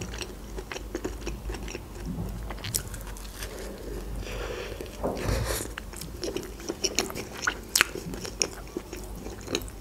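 A juicy burger is eaten up close, ASMR mukbang style: wet bites, squishy chewing and occasional crunches follow one another steadily, with a few louder bites near the end and no talking.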